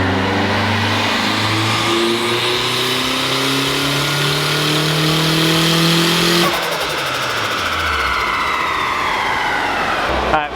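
Boosted K20 engine in a Honda Civic pulling hard on a dyno, loud rising rev through the gears with a roaring turbo whine, then a sharp drop off throttle into a rough, crackling decel; voices barely present.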